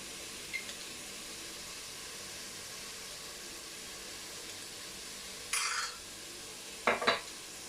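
Fried rice seasoned with salt and pepper gets stirred in a pan, a faint steady hiss broken by a couple of short scraping strokes of a utensil against the pan near the end.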